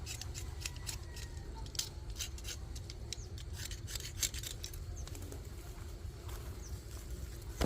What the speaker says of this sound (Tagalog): Ngayon kayurin natin yung yung itong natitirang konting balat.